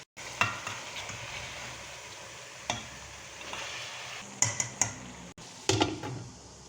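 Meat and potatoes frying in a pan, a steady sizzle broken by several sharp scrapes and clinks of a utensil stirring, close by, with no voices.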